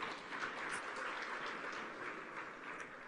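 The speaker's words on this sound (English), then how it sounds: "Can we give ourselves a round of applause?" An audience at a women in leadership conference session gives itself a round of applause, a faint, distant wash of steady clapping that holds evenly for about three seconds.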